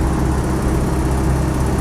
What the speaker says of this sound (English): Slightly irritating, that exhaust blow from the